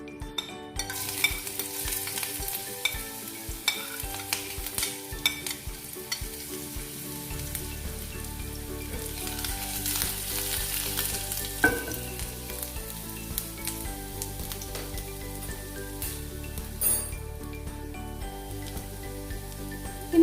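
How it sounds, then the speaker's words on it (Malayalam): Chopped ginger, cinnamon, cloves and star anise hit hot oil with a continuous crackling sizzle, accompanied by occasional stirring scrapes throughout, with no talking. "ഇപ്പോൾ എണ്ണ ചൂടായിട്ടുണ്ട്. നമുക്കതിലേക്ക് ഈ ഇഞ്ചി നുറുക്കിയതും പട്ടയും ഗ്രാമ്പും സ്റ്റാർ അതും കൂടെ ഇട്ട് കൊടുക്കാം."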